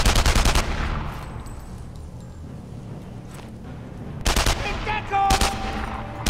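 Gunfire in the video game Enemy Front comes as a rapid automatic burst at the start, then sporadic later bursts of shots over quiet in-game ambience.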